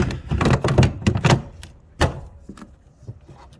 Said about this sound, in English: Put my door back on.